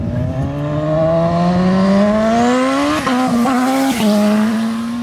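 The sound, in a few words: motorcycle arriving and revving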